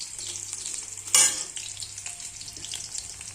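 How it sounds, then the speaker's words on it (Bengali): Okra and chopped onion frying in hot oil give a steady close sizzle, with a sharp hiss burst as something is stirred in, then a constant crackling fry with no talking. "দিয়ে দিচ্ছি পেঁয়াজ কুচি, ভেন্ডিটা ভেজে নিচ্ছি।"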